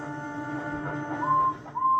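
A storybook steam engine's whistle, voiced by a narrator, rises to a clear sustained tone near the end of the clip, broken briefly and then resumed, over a soft background hum.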